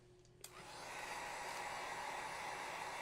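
A hair dryer clicks on and settles into a steady, close, loud whooshing hum while blowing over wet Mod Podge glue, holding constant for a few seconds.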